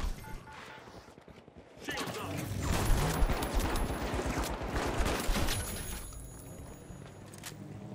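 Automated turret fire in the video game The Finals rattles in a rapid burst of shots for several seconds, loud and close, with players talking over and around it.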